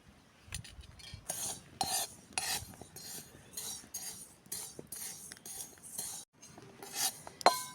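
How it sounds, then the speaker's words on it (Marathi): Sesame seeds dry-roast in a wok, with a spatula scraping and rasping against the metal in irregular close strokes and light clinks between them. No one speaks. "मी आता येथे कढईमध्येच तीळ भाजून घेणार आहे"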